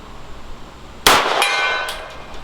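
A .38 Special wadcutter bullet fired from a Smith & Wesson 52-2 pistol strikes a steel gong at the range, giving one sharp, loud metallic clang that rings and decays over about a second.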